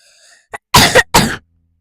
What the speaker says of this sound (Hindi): मुझे मेरा बहुत खांसी हो रही है आजकल।